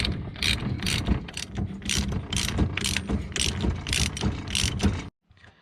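Ratchet tightening the nut on a steering wheel hub, a rapid series of close metallic pawl clicks in repeated bursts, loud and alone with no talking.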